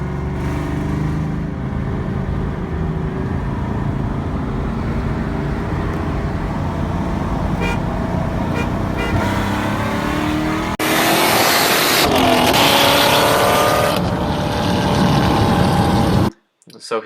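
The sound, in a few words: 2001 Mustang Bullitt racing a boosted car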